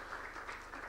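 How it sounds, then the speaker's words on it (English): Audience applause at a regional methane seminar, a steady wash of many hands clapping throughout, moderately loud and with no voices over it. "Please give them a round of applause as they go down"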